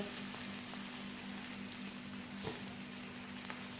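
A Pakistani omelette fries in a pan, giving a soft, even sizzle with faint crackles. A low steady hum sits underneath, and no one speaks.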